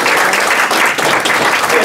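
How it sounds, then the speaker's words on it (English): Applause at a committee meeting: a short burst of steady clapping from a roomful of people, close and continuous, without speech. "No clapping till the end."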